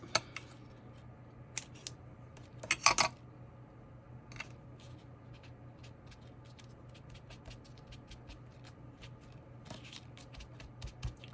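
Scissors make scattered, sharp snips while cutting pieces of tape for a handmade distressed grunge button card. The cuts come at irregular intervals over a quiet background with a faint hum.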